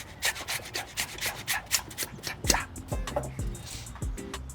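Ginger grated on a grater for a barbecue pork belly breakfast sandwich, a close, rhythmic series of rough scraping strokes, about a dozen, quick and even, with no talk.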